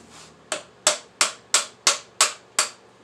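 A hammer taps a nut on a 1976 AMF Harley-Davidson SS 175 motorcycle part, seven sharp metallic knocks in a steady, evenly spaced rhythm, close and clear.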